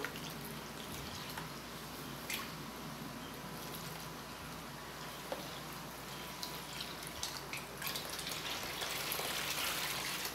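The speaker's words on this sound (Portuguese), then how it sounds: "Ó, vamos lavar aqui a bacia," Water splashing and trickling as a basin is rinsed out, a steady soft wash of running water with occasional drips and sloshes, faint and continuous.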